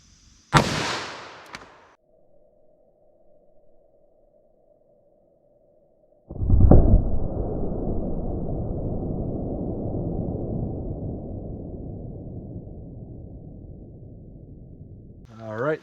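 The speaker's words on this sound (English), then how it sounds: "357 Magnum through our MDF." A .357 Magnum round is fired through MDF into a ballistic test medium: a sharp, loud report opens, a second heavy blast follows several seconds later and rumbles on with a long, slowly fading roar.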